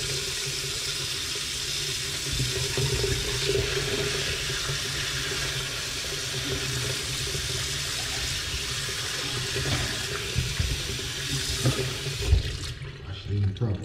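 Tap water runs steadily over fish being washed in a sink for a Jamaican fish dish, a continuous close splashing stream that cuts off near the end.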